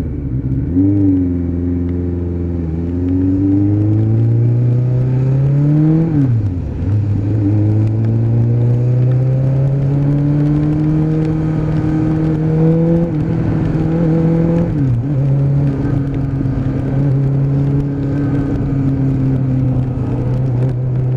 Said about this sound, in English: Very happy with the ride test on this Suzuki Bandit.